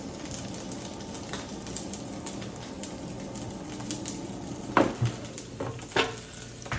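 A5 wagyu steak frying in a pan: a steady, close sizzle and crackle, with a few louder pops and pan clatter as the meat is turned over.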